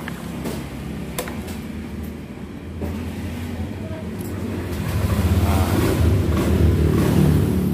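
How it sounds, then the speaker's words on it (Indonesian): Motorcycle engine cranking and starting on a freshly recharged battery, a steady low rumble that rises and grows louder halfway through and keeps running close by. "Oke, ini kita coba starter apakah udah bisa."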